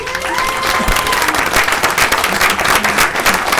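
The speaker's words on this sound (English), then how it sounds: "I think that needs a round of applause, guys." Loud, steady applause from a crowd, honoring a Caddo Parish bakery named Louisiana's top king cake maker, with dense clapping throughout and faint voices underneath.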